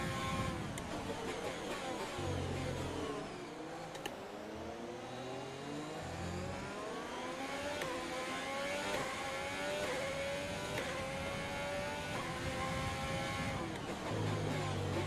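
F1 race car engines in the video game F1 2020 scream continuously at high revs, with rising and falling pitch sweeps as cars shift gears on a wet track, a steady loud drone throughout.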